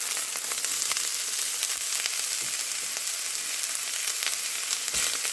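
Onions sautéing in a pan for a sauce, a steady soft sizzle with crackling pops and occasional stirring scrapes, heard alone at low volume.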